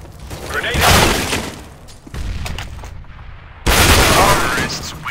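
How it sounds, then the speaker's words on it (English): Grenade blast and gunfire in Counter-Strike: Global Offensive, loud bursts of explosion and shooting in two main waves with a brief quieter gap between them. "Grenade out!"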